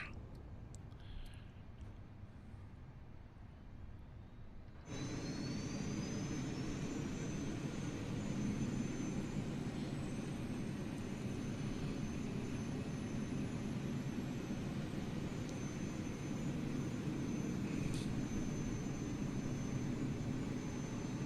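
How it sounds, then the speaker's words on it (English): Airbus A380 jet engines 1 and 2 start in a flight simulator: a quiet hum suddenly jumps to a steady, loud broadband roar that holds with a faint rising whine, and no one speaks. "we'll come down here, engines 1 and 2 start."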